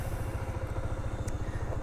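A 125cc four-stroke carbureted scooter engine running quietly, giving a steady, even low putter of rapid regular pulses heard close by with no revving.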